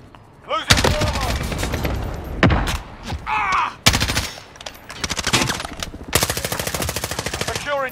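Rapid automatic gunfire and bursts crackle through a team deathmatch video game battle, loud and close, with repeated volleys separated by brief pauses and a short thud.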